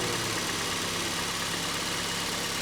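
A small car at a salvage auction lot idles steadily, a dense, even engine rumble with broad noise, loud and close, unchanging for the whole stretch and with no talk.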